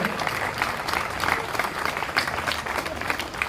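An audience applauds at a Brahmin community get-together and felicitation event in Gujarat: continuous crowd clapping with small surges, fairly close and steady throughout.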